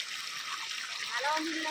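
Water gushes out of a motor pump in a steady, close rushing flow, with a voice speaking over it.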